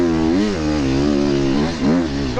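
Enduro motorcycle at a British sprint enduro event, riding a rutted winter track; the engine drones loud and close throughout, its pitch rising and falling as the throttle opens and eases.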